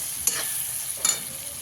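Ginger and garlic sautéing in a pan for pav bhaji, a soft continuous sizzle with two brief scraping stirs, close and fairly quiet.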